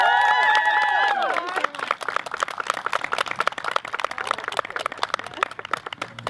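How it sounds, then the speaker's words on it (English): A crowd at a college tennis Senior Day claps and cheers for the seniors, scattered applause mixing with hubbub after a brief burst of loud tonal sound at the start. "one last round of applause for our seniors"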